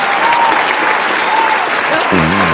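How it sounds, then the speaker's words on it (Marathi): Loud audience applause for a Pandit at a Marathi comedy stage show, dense and steady throughout, with a brief voice or tone entering near the end. "पंडितजींसाठी एकदा टाळ्या होऊन जाऊ दे, जोरदार टाळ्या होऊन जाऊ दे"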